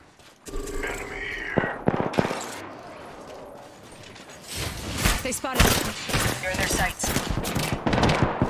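Rapid bursts of automatic gunfire in the Apex Legends battle royale shooter, with loud, dense volleys coming in waves alongside other game sounds.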